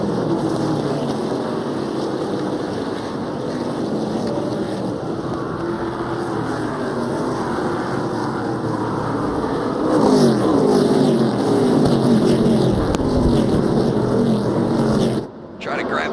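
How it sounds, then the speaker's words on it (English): NASCAR Camping World Truck Series trucks race at Knoxville Raceway, a dirt track, their engines roaring in a steady dense drone that swells as the pack passes and cuts out abruptly near the end. "We're racing the trucks at Knoxville."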